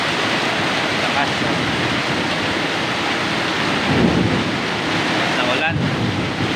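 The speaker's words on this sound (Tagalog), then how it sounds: "Lakas ng ulan." Heavy rain pours steadily with strong wind buffeting the microphone, forming a loud unbroken roar that swells briefly midway as thunder rumbles within the storm.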